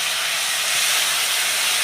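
Ginger, tomato, cumin, turmeric and chilli spice paste sizzles in hot oil in a kadai while motor dal is cooked, a loud, steady, unbroken hiss that holds evenly from start to finish with no talking.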